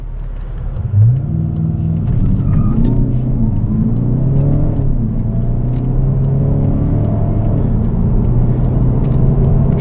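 A VW Arteon R-Line 2.0 TDI diesel with 240 HP pulling hard in sport mode, engine note rising and dropping sharply through quick gear changes, loud steady cabin rumble throughout, no talk.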